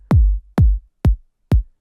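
Four clipped sub kick hits from a kick sample trimmed far too short in music software, each a deep booming thump with a sharp click that cuts off abruptly, evenly spaced about half a second apart, alone.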